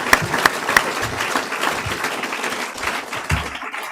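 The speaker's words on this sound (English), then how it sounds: "So I would like a round of applause for them." Audience at a live-streamed political rally breaks into applause, a dense continuous patter of many hands with a few sharper nearby claps and some crowd noise throughout.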